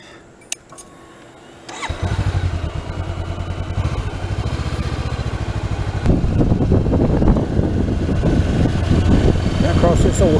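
A motorcycle engine starts with a click and then revs steadily, growing louder and rougher as it gets going, close by, on dirt roads near Shallford Bridge over the Toccoa River.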